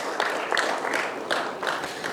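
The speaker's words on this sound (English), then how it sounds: "Can we have a big round of applause for Ms." An audience at a keynote event gives a moderate round of applause, steady overlapping claps with a few sharper individual hits rising above the wash.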